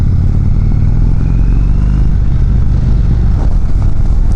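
A 2019 Indian Chieftain Dark Horse motorcycle on the road, its steady low engine rumble loud and continuous throughout with wind noise over it and no talking.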